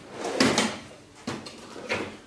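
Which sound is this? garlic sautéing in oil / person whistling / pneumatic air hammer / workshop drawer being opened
workshop drawer being opened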